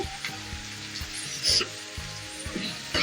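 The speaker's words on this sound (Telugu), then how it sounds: "ఇవన్నీ బాగా ఫ్రై చేసుకోవాలి కొద్దిగా ఫ్రై అవ్వనిద్దాము" Curry leaves fry in hot oil in a pan with a continuous bright sizzle and crackle, punctuated by a few louder spitting pops and soft stirring scrapes, close up with no voices.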